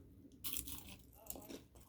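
Someone bites into fried fish, a faint crunchy bite followed by soft chewing, close and quiet, with a brief murmur of talk.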